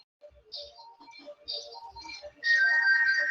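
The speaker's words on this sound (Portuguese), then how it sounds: "O telefone da mulher resolveu tocar uma música aqui." A woman's mobile phone goes off during a church Sunday school lesson, its ringtone playing music: scattered melodic notes first, then a louder sustained tune that takes over toward the end.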